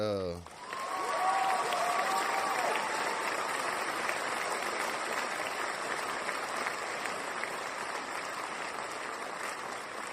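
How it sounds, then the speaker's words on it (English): Sustained applause from a live-stream audience for a band, a steady dense wash of clapping that swells quickly and holds for about ten seconds. "Clap it up for him, matter of fact."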